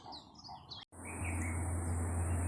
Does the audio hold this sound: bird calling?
yes